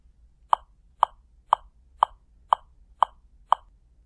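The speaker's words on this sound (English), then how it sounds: "120 BPM, which sounds like this." Online metronome set to 120 BPM, giving a brisk run of eight sharp, identical clicks at an even pace, loud and close against a quiet background with no voices.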